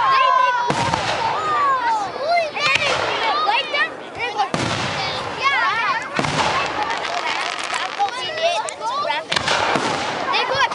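Canada Day fireworks at Castlegreen in Thunder Bay burst repeatedly in loud, sharp booms a few seconds apart, with crackling tails after each, while nearby people talk and react over the display.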